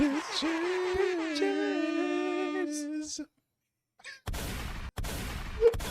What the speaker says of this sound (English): The gunshots following it up.